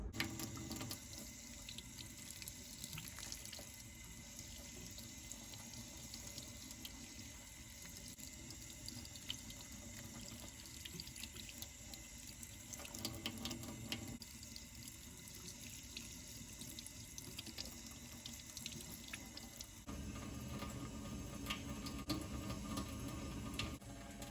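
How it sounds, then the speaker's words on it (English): Bear's head tooth mushrooms (Hericium americanum) are rinsed under a gentle stream of cool tap water, a continuous close hiss and patter of running water with no talking. "you are going to want to rinse these underneath some cool water, gentle stream"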